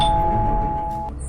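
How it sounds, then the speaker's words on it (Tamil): A doorbell chimes once, a clear sustained electronic tone ringing steadily and fading out after about a second, loud and close with no talk over it. "யாரா இந்த நேரத்தில் காலிங் பெல் அடிக்கிறது?"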